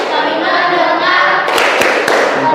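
Classroom students doing a rhythmic focus clap routine; a roomful of voices chants, then three sharp, loud group claps land in quick succession.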